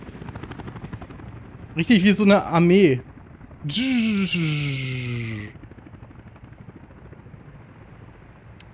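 Helicopters in the city-building game Workers & Resources arrive with a steady, droning rotor hum running throughout, while someone speaks in bursts over it.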